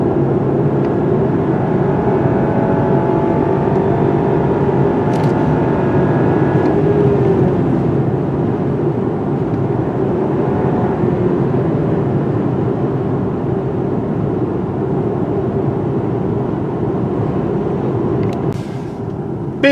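A 2017 BMW 530i with a four-cylinder engine cruises on the road, producing a steady, loud drone of engine hum and tire roar that holds even for the whole stretch, with faint tonal engine notes and no voices.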